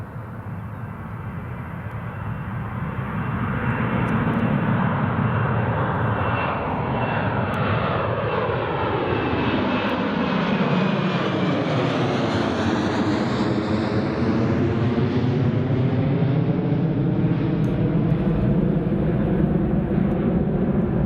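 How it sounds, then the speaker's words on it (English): A Jet2 Airbus A321 airliner at Newcastle International Airport, its jet engines roaring steadily and loud throughout, with a sweeping pitch shift as the aircraft passes, no talk over it. "There's the Jet2 A321"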